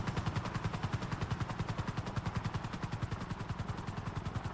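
A helicopter in GTA V gives a steady, rapid rotor thump that is loud and close and continues unbroken with no voices over it.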